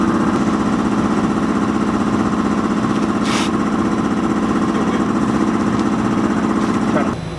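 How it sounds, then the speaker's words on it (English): An air compressor runs steadily in a garage where an LS engine and transmission are going into a Mopar, a loud continuous mechanical drone filling the whole stretch with a brief hiss partway through. "oh, there's that air compressor"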